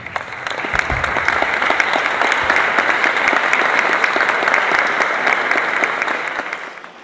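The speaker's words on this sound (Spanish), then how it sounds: "tenemos que darte un aplauso" An audience at a textile map presentation in Oaxaca breaks into sustained, dense applause that swells, holds for several seconds and then tapers off.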